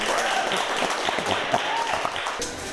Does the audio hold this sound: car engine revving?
no